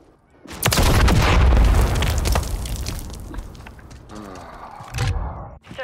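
Rocket launcher blast in a shooter game on the Highrise map: a sudden loud boom with a heavy rumbling tail, followed by sharper pops and a second smaller burst.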